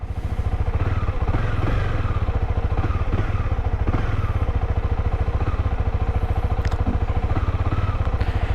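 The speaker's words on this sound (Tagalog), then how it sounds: "Pinapahit muna natin yung engine." Honda CB300R motorcycle engine idling as it warms up, a steady close low rumble that carries evenly through the whole stretch with no voices.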